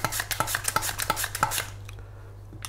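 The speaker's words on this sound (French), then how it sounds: "Vous vous équipez de votre plus belle mandoline et vous allez faire des tranches régulières et assez fines." Potatoes are sliced thin on a mandoline for an Irish-style potato gratin, a quick run of about eight sharp rhythmic slicing clicks that stop after a pause, with one last click at the end. No one speaks.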